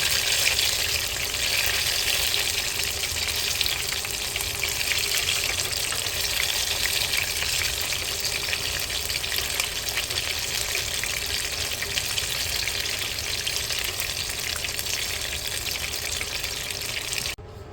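Seafood egg rolls frying in hot oil, a loud, continuous bubbling hiss that holds steady throughout, close up, with a brief drop at the very end as the rolls are turned over.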